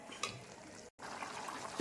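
Water poured into a pan of bitter gourd thokku simmering on the stove: a steady splashing wash lasting under two seconds, broken by a brief gap near the middle.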